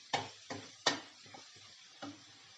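Chili powder and turmeric are stirred into hot oil in a pan over a low flame for a Kerala moru curry: about five quiet, distinct scraping strokes under a faint sizzle, with no talking.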